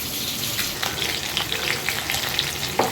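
Cumin, nigella seeds, ginger paste, dried red chillies, bay leaf and turmeric sizzle in hot oil for a Bengali katla fish curry, a steady loud crackle with scattered sharp pops and no voices.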